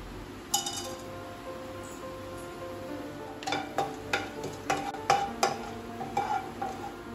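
Whole spices (cinnamon, cloves, bay leaf) dropped into hot oil for a mutton curry, a soft sizzle with a run of sharp clinking taps against the pan in the second half, fairly quiet and without speech.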